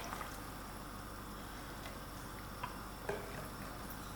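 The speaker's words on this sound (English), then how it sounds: "This has been boiling for 15 minutes with the lid on" Vegetable stew with potatoes boils in a lidded pot, giving a steady close bubbling hiss with occasional small pops and ticks throughout.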